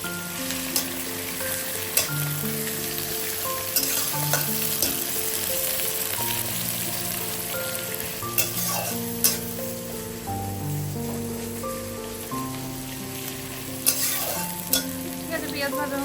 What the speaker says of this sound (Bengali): এখন আমাদের পেঁয়াজ টিয়াজ ভাজা হচ্ছে